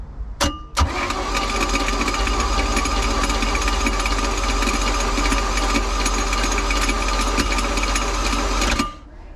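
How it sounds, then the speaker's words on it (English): A boat engine cranks over on a newly installed starter in one long, loud, continuous whirring run of about eight seconds, preceded by a brief click and ending abruptly. "Got that starter in, let's hear this first crank."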